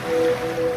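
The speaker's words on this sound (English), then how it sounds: "now you're drifting asleep to the scent and sound of waves" Ocean waves used as a sound effect in a laundry detergent ad: a brief, steady wash of surf noise with a faint thin tone held through it, and no voice.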